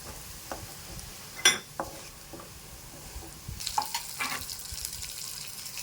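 Red chili powder being stirred into a frying bitter gourd dish in a pan, a few scraping spoon strokes and faint sizzling, with denser clattering stirring toward the end, close and fairly quiet.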